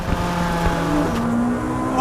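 A Ferrari 458 Speciale with a naturally aspirated engine revs through the hills, a loud, close, rising tone with a sharp jump in pitch near the end, under light road noise.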